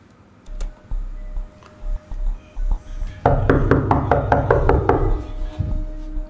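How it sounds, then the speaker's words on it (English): Loud, constant banging on a front door: a rapid burst of heavy knocks after several slower, isolated thuds, close and forceful, with a lower rumble trailing at the end. "Some constant and very loud banging can be heard from Muro's front door."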